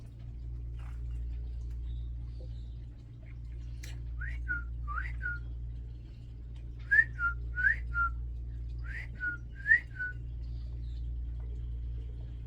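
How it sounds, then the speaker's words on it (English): A person whistles short, bird-like chirps in small clusters over a steady low hum, fairly soft and intermittent. "Sometimes I whistle at the birds."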